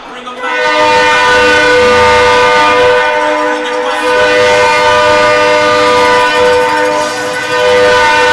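A loud, sustained train horn blares in an ice hockey arena at a college game, with strong steady harmonic tones, holding for several seconds with a slight dip midway before continuing.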